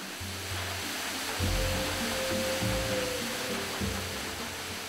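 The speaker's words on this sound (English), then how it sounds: "They arrive at the Rousset waterfall." The Rousset waterfall in Madagascar gives a constant broad rush of falling water. A low rumbling layer joins partway through while the roar holds steady throughout.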